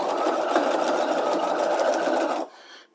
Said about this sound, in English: let's go ahead and stitch our back neckline